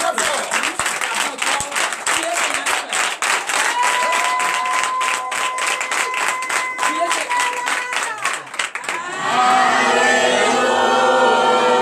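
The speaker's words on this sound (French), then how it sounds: "je vous demande d'applaudir très fort" A church congregation at a night deliverance and prophecy service claps loudly, rapid strong hand claps filling most of the stretch under amplified speech, then fading into a sustained crowd wash near the end.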